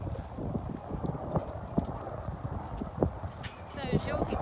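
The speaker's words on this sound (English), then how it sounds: "Those patient horses." Horse hooves clip-clop in a steady, busy patter during a Kok Boru match in Kyrgyzstan, several horses moving at once, with an occasional whinny and people talking over the hoofbeats.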